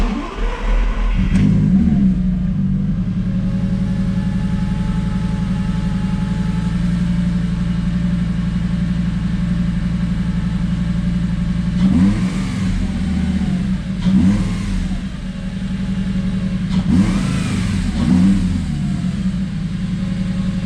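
A Lamborghini Gallardo fitted with a throttle booster idles loudly in a garage with a steady, deep engine drone, broken by three short revs that swell and drop back.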